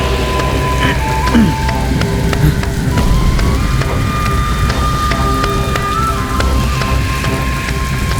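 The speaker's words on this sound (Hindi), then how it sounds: "वर्षा" Heavy rain pours steadily and loudly on surfaces, a dense continuous hiss with scattered drip impacts throughout.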